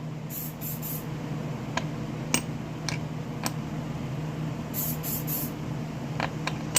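Several short hissing bursts of a lemon-scented spray bottle used on fishing baits, in quick clusters of three, over faint background clinks and hum.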